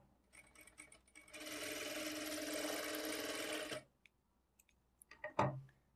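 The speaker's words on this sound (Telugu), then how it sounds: "ఈ విధంగా దగ్గర కుట్టు పెట్టుకొని స్టిచ్ చేసుకున్నాము" A sewing machine stitching fine thread piping hums in one steady, close run of about two and a half seconds, framed by soft clicks and handling noises before and after.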